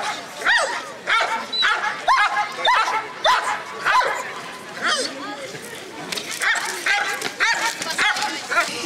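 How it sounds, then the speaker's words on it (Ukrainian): German shepherd dogs from a dog-training club bark and yip repeatedly at a demonstration on a town's main square, in rhythmic bursts with some whimpering, while people talk in the background. "демонстрували на головній площі Кропивницького німецькі вівчарки клубу «Елітна кінологія»"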